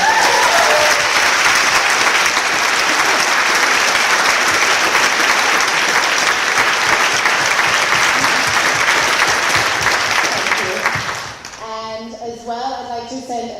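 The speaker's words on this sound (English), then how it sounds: "So big round of applause." Audience at a veterinary school carol service claps in sustained, dense applause for about eleven seconds before it fades and a speaker begins talking.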